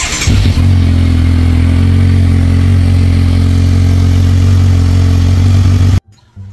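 A Kawasaki Versys motorcycle engine runs close and loud at a steady idle with a deep, even throb for about six seconds, then cuts off abruptly.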